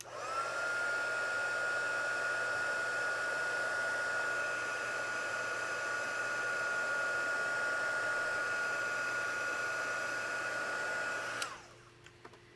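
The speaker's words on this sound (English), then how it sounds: "We're going to hit it with the heat tool just to soften up some of the adhesive." A heat gun blows a steady, loud, breathy roar with a constant whine while softening adhesive on a book spine, then cuts off near the end, leaving a faint hum.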